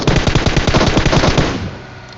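Rapid automatic gunfire in the mobile battle royale game PUBG Mobile, a loud, fast burst of evenly spaced shots that runs for about a second and a half before cutting off and leaving a short fading tail.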